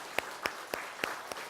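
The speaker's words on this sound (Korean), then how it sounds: "박수 한번 칩시다" Audience applause at a Buddhist dharma gathering, five sparse, slow claps spaced evenly, faint and somewhat distant.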